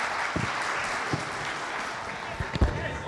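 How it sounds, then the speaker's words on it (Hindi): An audience at a motorcycle brand launch event in a Lahore hotel ballroom applauds a correct quiz answer; steady, moderately distant clapping carries a few louder thumps and knocks throughout. "तालियां इनके लिए"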